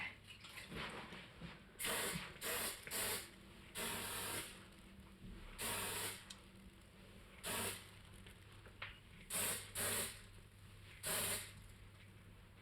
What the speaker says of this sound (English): Is this hairspray?